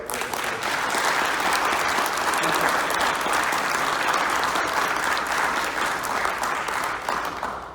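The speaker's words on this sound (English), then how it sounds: "give them a round of applause" Audience applause at a Hall of Fame awards dinner, a dense, steady wash of many hands clapping that holds evenly throughout, with a little murmuring mixed in.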